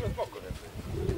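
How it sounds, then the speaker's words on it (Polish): Racing pigeons landing at their loft give soft low cooing calls, close by, with a voice talking over the brief birdsound. "Pięknie szybują pod wiatr i wszystkie, wszystkie lądują i wchodzą od razu."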